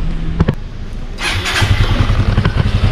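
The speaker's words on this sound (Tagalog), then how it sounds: "paanda rin natin yung motor at hayaan lang natin na mag-idle" A few clicks, then a Yamaha Mio i125 motor scooter engine, freshly oil-changed, catches and settles into a steady, buzzing idle, loud and close.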